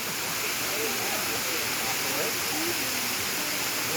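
Waterfalls in Marinka, Colombia pour beside a big swimming pool, giving a loud, unbroken rush of falling water close by, with faint voices drifting through it.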